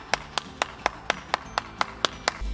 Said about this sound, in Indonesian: tepuk tangan dulu dong buat Tuhan Yesus kita yang sangat luar biasa